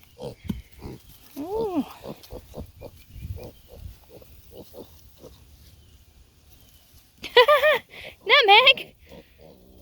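Pigs being fed crooked neck squash as a snack at a farm, with loud grunting squeals near the end, a few short oinks and snuffling throughout, under a person's talk.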